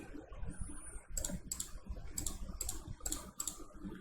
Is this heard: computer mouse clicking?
yes